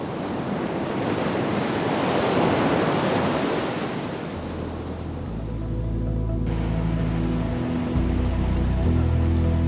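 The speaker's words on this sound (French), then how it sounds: "on reçoit l'immensité du vent, à ses origines, en ses racines" Strong wind and crashing ocean surf at Cape Horn roar loudly and continuously, with heavy broadband rush, buffeting gusts hitting the microphone, and deep low rumbles in the second half.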